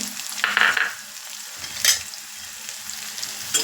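Ginger and chopped small onions frying in a pan for inji curry, with a constant sizzle, a louder burst as they are added and spoon stirring strokes; no voices.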